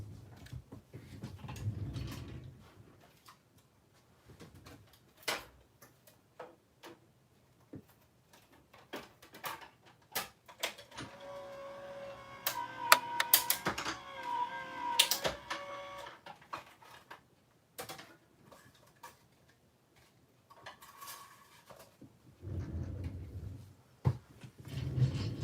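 Paper die-cutting machine feeding cardstock through its rollers, a steady mechanical whirring and grinding with clicks and clunks, close and fairly quiet, running alone with pauses between passes.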